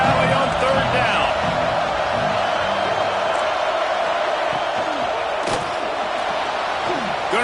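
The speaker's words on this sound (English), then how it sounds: "Here comes the noise from this big crowd in Happy Valley on 3rd down" Big stadium crowd at a Happy Valley college football game roaring on third down, a dense sustained wall of noise under a commentator's continuous talk.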